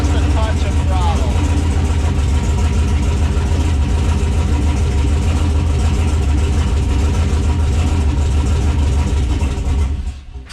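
A 6.0 engine in a CUCV truck runs at light throttle with a steady, close, loud rumble that holds evenly before cutting out near the end, with someone talking over it.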